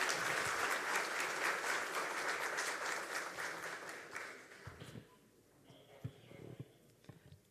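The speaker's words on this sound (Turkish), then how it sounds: "lütfen alkışlarınızla sahnemize davet ediyoruz." Audience applause fills a Turkish opening ceremony for a gluten-free bread production building, steady and full for nearly five seconds, then thins into scattered claps and a few faint sounds.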